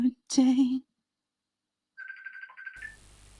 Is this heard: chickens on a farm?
no